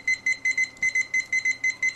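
A Habor digital kitchen timer beeps in rapid paired bursts, sharp high-pitched electronic tones repeating in a steady rhythm, close and clear with no talk.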